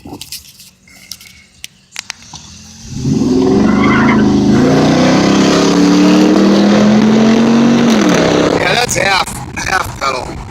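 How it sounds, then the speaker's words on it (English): A 2004 Dodge Ram 1500 Rumble Bee Limited Edition with a Hemi V8 and 4WD pulls away from a traffic light at half pedal, a loud rising engine roar building for several seconds after a quiet idle, then easing off. "Let's listen to the motor here when the light turns green."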